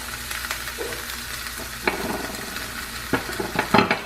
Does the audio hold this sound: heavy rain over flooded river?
no